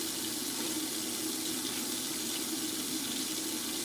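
Tap water runs steadily into a kitchen sink while knives are washed, a constant close hiss of flowing water with no breaks and no talk.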